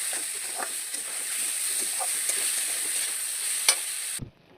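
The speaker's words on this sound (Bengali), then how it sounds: "দিয়ে এটাকে আমি সুন্দর করে একটু ভাজা ভাজা করে নেবো।" Steady, loud sizzling of potatoes and pointed gourd frying in hot oil, with occasional soft scraping from a spatula, cutting off abruptly near the end.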